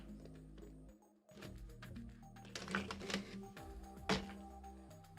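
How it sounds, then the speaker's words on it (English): A loud computer keyboard clatters with irregular bursts of keystrokes, sharp clicks clustering close to the microphone while game sounds play quietly beneath. "My keyboard is pretty loud."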